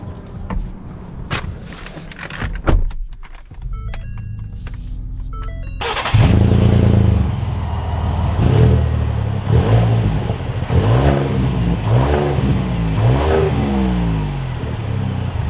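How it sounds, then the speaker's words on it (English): A 2021 Ford Expedition Max Limited engine cranks and starts after some clattering handling noises, then settles into a steady idle and revs as the SUV pulls away, with repeated rising acceleration surges, loud and close. "let's take this Expedition out and see how she drives."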